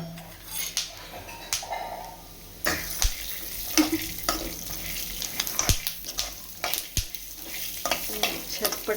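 Peanuts roast in a pan for a dry fruits laddu, giving a steady close scraping of stirring with scattered sharp crackles and pops. No one speaks.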